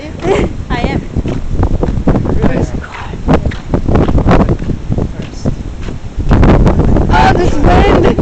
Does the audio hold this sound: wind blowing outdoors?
yes